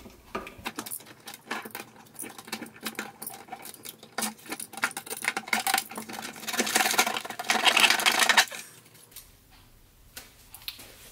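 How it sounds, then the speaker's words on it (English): Silicone being cut out of a home-made dust collector, faint scraping and clicking near the microphone, building to a denser rasping cut before stopping, with no talking. "I think the easiest way to do this will be to try and cut out all of the silicone."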